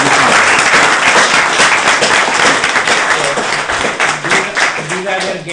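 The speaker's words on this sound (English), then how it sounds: "So I want to give a big clap to all these people who made this happen." An audience at a PowerShell community tech talk applauds loudly, a thick wash of clapping that continues steadily with some voices mixed in.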